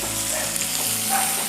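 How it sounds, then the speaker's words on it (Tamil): Onion sautéing in a pan for squid fry, a continuous soft sizzle held at an even level, close by, with no voices. "இப்போ வெங்காயம் வதங்கிட்டுருக்கு."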